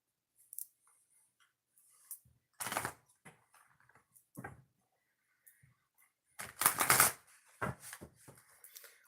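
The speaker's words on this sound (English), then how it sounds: "So 2 shuffles before we go into the next oracle reading." Oracle cards being shuffled by hand, with bursts of riffling and ruffling at about three points, the longest and loudest near the end, separated by quiet gaps and soft handling noises.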